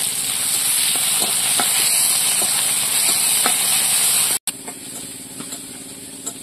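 Garlic dropped into hot mustard-type oil already holding bay leaf, panch phoron and onion, a continuous bright sizzle with faint stirring taps, a brief cut, then a quieter fry carrying on.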